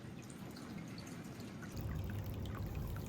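Water trickles and splashes in an open-air hot spring bath in a guest room by the sea in Atami, a soft continuous pouring and dripping that grows fuller and louder partway through, with no voices.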